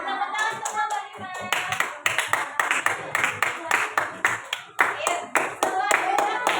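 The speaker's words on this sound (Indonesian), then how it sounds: "beri tepuk tangan untuk kelompok 5." A third-grade elementary classroom claps for a student group, rhythmic rounds of sharp, close hand claps in bursts, with children's voices mixed in.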